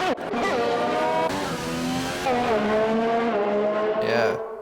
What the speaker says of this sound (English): car's off track there, now, but it looks like Henchman is out. Crashed out Ferrari there.